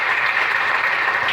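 A church congregation applauding in a continuous, steady wash of clapping that fills the whole short moment, close and fairly loud, with no voices standing out.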